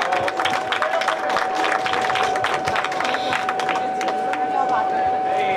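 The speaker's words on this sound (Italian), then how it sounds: "Applauso Antonino." Crowd applauding a rally driver at the prize ceremony of the 16th Slalom Città di Avola 2024, dense sustained clapping with a little cheering and babble, close and loud.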